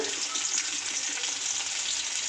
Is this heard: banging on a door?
no